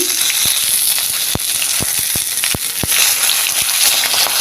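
Curry leaves and whole spices crackle and sizzle in hot oil in a pan, with a steady frying hiss broken by sharp pops and spits at irregular intervals, close and fairly loud.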